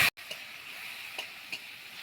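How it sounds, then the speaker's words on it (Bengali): Chopped tomatoes go into hot ghee already frying with whole cumin, a dried red chilli and Kashmiri chilli powder, giving a steady close sizzle with a few soft stirring clicks. "কুচিয়ে রাখা টমেটোগুলো দিয়ে দেবো।"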